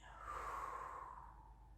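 A single slow exhale during a beginner Pilates exercise, a soft, close breath lasting under two seconds, faint and alone.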